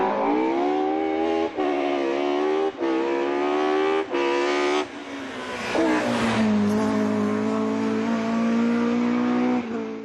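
A BMW M42-based M44 four-cylinder engine fitted with Toyota 20-valve individual throttle bodies revs loud and close, rising and dipping through several sharp blips before settling into a sustained high-rpm scream.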